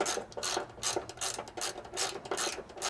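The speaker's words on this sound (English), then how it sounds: "we're going to go ahead and remove this bolt on the inside of your driver's side frame rail, utilizing a 12mm socket" Ratchet with a 12mm socket backing out a bolt on the inside of the driver's side frame rail of a 5th Gen 4Runner or GX460: rapid rhythmic clicking in repeated bursts, close and clear, with no talk.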